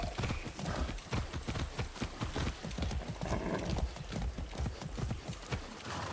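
Rhythmic clip-clop of horse hooves trotting at a steady pace in the video game Far Cry 6, close and continuous, with a brief whinny-like tone at the start.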